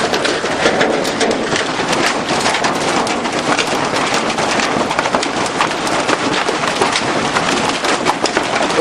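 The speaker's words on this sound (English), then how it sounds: "The hail sounds like thunder on the roof." Hail from a storm at a farm pounds a roof in a dense, loud, continuous clatter of countless impacts, steady throughout with no talk.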